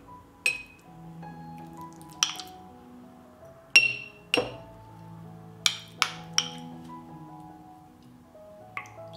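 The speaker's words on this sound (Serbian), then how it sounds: "U svaku teglu sipat ću po supenu kašiku pavlake" A spoon knocks and scrapes against glass jars while sour cream is portioned into them, giving several sharp clinks spaced out over quiet, close and fairly soft.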